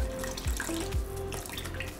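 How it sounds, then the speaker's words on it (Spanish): Warm chicken broth is poured into masa dough for vegetable and cheese tamales, a steady close liquid trickle and splash with a few gurgles, no voices. "Y ahora voy a ir agregando caldo."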